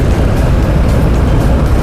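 A motorcycle rushes past on a road, heard from a Honda 110 CX Alpha motorbike ride, a loud, close, steady roar of engine and wind with no break and no voice over it.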